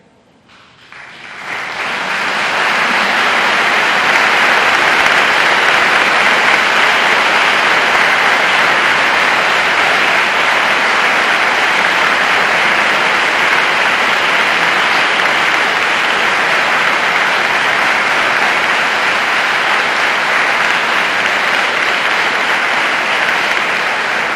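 Audience at a school voice recital applauding military veterans, dense sustained clapping that swells within the first two seconds and then holds steady and loud, with no talk over it.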